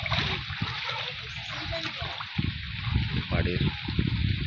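Floodwater sloshes and splashes around a flooded house, yard and cattle shed, knee-deep, with close, continuous rushing and occasional splatters while someone talks over it.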